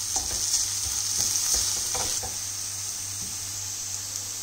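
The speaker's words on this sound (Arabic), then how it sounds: "ونستمر في التحريك" Onion, hot pepper and garlic sizzle in a pan while being stirred, several scraping strokes over a steady hiss and a low constant hum, the stirring easing off after the first couple of seconds.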